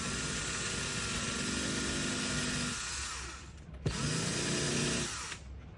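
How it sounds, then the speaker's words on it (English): A power drill bores into the gel coat deck of a boat's coach roof during vent installation, a steady loud whine running for nearly three seconds, then a brief clunk and a second burst of drilling before it stops. "I like to drill one first"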